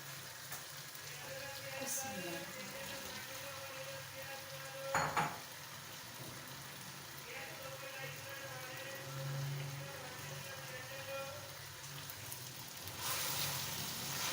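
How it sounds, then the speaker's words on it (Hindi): Chicken pieces and capsicum (shimla mirch) fry in a pan with a soft, steady sizzle, fairly quiet throughout, with faint clinks of utensils over a low background hum. "5 मिनट हो गए मुझे इसे चिकन को भूनते हुए।"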